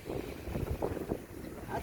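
Strong, cold wind in New Zealand buffets the microphone in a continuous, rumbling roar with gusty low-frequency surges throughout.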